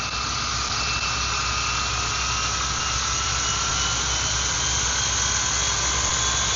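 A Roban 800 size UH-1D Huey RC helicopter hovering, giving a steady high-pitched turbine whine and rotor drone that holds at an even level throughout, close and continuous with no talk.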